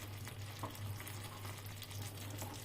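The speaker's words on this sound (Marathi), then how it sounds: "तूप घातल्यामुळे पाकाला छानपैकी असा फेस येतो।" Sugar syrup with ghee cooking and foaming in a pan for gathi, a soft continuous bubbling sizzle under a low steady hum, faint and close, with no voices.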